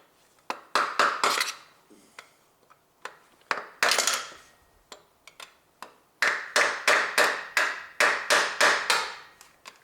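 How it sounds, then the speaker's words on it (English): A hammer taps gearbox cable parts on a Honda Civic 1.8 R18A1 in quick irregular bursts of light, sharp clinks, some clustered in rapid runs and others spaced apart, close by with no speech. "Now I use little bit hammer."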